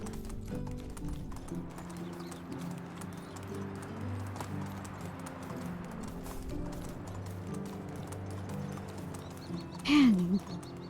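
Steady clip-clop of horse hooves while riding in the medieval video game Medieval Dynasty, a continuous rhythmic trot under ambient game sound, with a brief whinny-like sound near the end.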